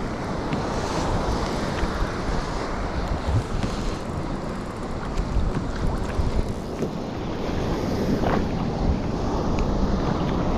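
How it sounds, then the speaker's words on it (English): Ocean waves wash around a kayak during solo fishing off the Far North coast: a loud, continuous rush of surf and water with wind buffeting the microphone throughout, and no voices. "when the waves get to me they kind of dissipate a little bit"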